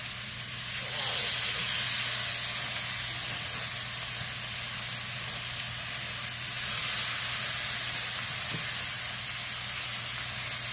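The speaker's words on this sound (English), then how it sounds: "You can hear that searing." Loud continuous sizzling and hiss of chicken searing in a hot pan, steady throughout with no talking.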